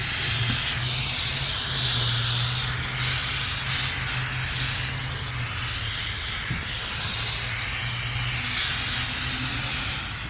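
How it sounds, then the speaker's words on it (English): Brake cleaner sprayed in a steady continuous hiss over the oil-leaking engine of a 2013 Chevrolet Cruze LT, lasting the full stretch, close and fairly loud with a low hum underneath. "Brake cleaner work really good to clean."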